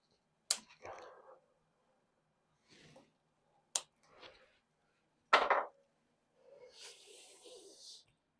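Wire ends being snipped with cutters while fitting a USB power supply to a Honda CRF300L motorcycle: three sharp, close snips at spaced intervals, each followed by brief soft rustling and handling noise, with a longer hissy scrape near the end.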